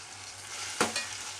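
Tomatoes cooking down in a pan make a soft, even sizzle with one short scraping stir midway, close and fairly quiet, then cut off abruptly.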